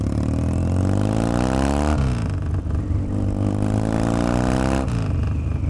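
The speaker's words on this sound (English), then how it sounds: "Now, the Bonneville 100 is not known for being a super fast bike. However, it is pretty quick." A Triumph Bonneville motorcycle accelerates hard, its engine note climbing through the gears, dropping briefly at each shift, then rising again, loud and close throughout.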